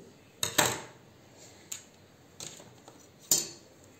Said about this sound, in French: Je vais le couper en son centre, en son milieu.